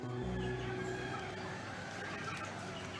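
Chickens of a selectively bred variety clucking and murmuring continuously at close range, a busy low flock chatter with occasional louder calls and no talk over it.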